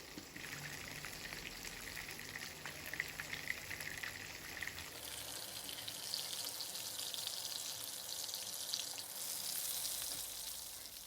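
Chicken chaap pieces coated in besan batter frying in oil, producing a soft, continuous sizzle that shifts in texture midway, fairly quiet and close with no voices.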